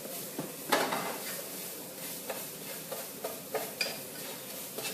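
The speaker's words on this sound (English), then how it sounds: "So you want to give them a good stir, and instantly you will see how they become coloured by the spices" A spoon stirs spiced ingredients in a cooking pan, with scraping strokes and light knocks against the metal over a soft, steady sizzle and no voices.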